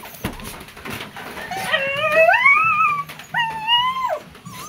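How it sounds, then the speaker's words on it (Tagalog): Dogs howl and whimper in drawn-out, wavering cries that rise and fall over a few seconds, fairly close, with a low rhythmic rumble in the background and no talk. "Tuwa-tuwa po yung aming mga aso."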